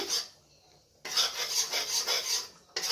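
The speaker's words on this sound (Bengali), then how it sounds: "ভাজাও হচ্ছে, এরকম ফুচকানি উঠছে, তার মানে এটা ভালো করে ভাজা হয়ে যাচ্ছে" Macaroni pasta being stirred as it fries in a pan: a soft scraping rasp of a utensil across the pan, quiet at first, then a louder stretch of rhythmic rubbing strokes, with no voices.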